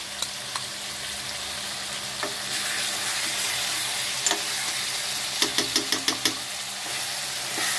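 Chicken stirred in a pan with soy sauce and tomato sauce, with a steady broadband sizzle, soft scraping stirs, and a quick run of sharp utensil knocks against the pan near the end, with no talking.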